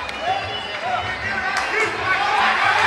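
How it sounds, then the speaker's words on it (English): A crowd cheers and roars during a kickboxing fight, a dense, continuous wash of voices that swells slightly, under a commentator's talk. "the crowd is heavily involved in this fight"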